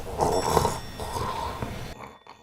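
A man snoring in bed, a harsh, rasping snore that rattles loudly through one long breath, then a brief pause and a second heavy snore, close and fairly loud, fading out near the end.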